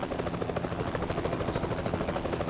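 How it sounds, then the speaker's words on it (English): A helicopter in Euro Truck Simulator 2 produces a steady rotor thrum with a rapid pulsing beat, continuous and fairly loud throughout with no talking. "we're not going to interfere with the helicopter"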